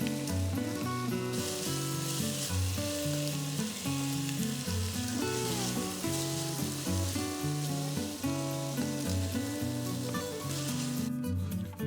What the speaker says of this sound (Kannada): ಟೊಮೆಟೊ ಒಂದು ಸ್ವಲ್ಪ ಮೆತ್ತಗಾಗೋವರೆಗೂ ಇದನ್ನು ಫ್ರೈ ಮಾಡ್ಕೊಳ್ಳೋಣ